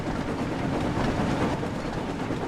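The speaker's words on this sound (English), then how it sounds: "The train was soon running nicely" James, a steam engine from Thomas and Friends, running along rails with a continuous rumbling roll and faint rhythmic clatter, steady, loud and close throughout.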